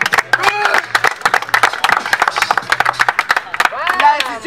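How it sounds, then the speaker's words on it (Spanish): An audience at a freestyle rap battle claps and cheers in a dense burst that runs the whole time, with a presenter's voice shouting over it. "¡Fuerte el aplauso!"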